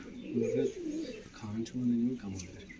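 A pigeon coos in soft, low, rolling phrases, two or three bursts close to the microphone, with faint background noise.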